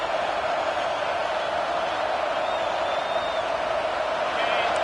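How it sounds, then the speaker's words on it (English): Stadium crowd noise from a College Football 25 game as the defense tries to hold in the red zone, a steady, dense roar filling the whole stretch with light whoops and cheers mixed in, under a commentator's voice. "And the crowd coming to life here"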